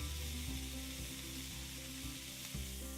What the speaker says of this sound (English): Sear the steak on all sides before removing from the pan.